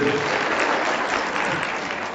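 Steady applause from an audience at a meeting of ASHA health workers addressed by Biplab Kumar Deb, a dense, continuous clapping that stays even for a couple of seconds.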